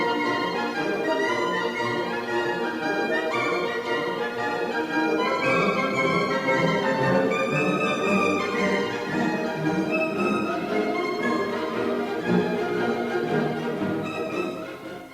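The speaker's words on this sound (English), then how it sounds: "Piccolos, flutes, oboes and bassoons play a swirling," Piccolos, flutes, oboes and bassoons play a swirling, mocking dance tune for witches in a spooky orchestral piece, with busy, continuous woodwind lines at a steady volume.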